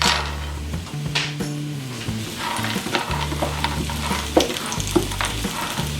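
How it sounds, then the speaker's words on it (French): Food sizzling in a frying pan as it is cooked, with a steady, close crackle and occasional clinks and scrapes of a utensil against the pan. "Finalement, j'ai opté pour une cuisson à la poêle"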